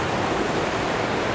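A waterfall on Vancouver Island pours in a steady, dense, broadband rush, close and loud, with no voices.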